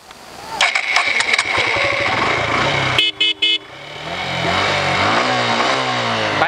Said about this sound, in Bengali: আমি যখন চাবিটা অন করব বাইক কিন্তু স্বয়ংক্রিয়ভাবে আনলক হয়ে যাবে এবং বাইক স্টার্ট হবে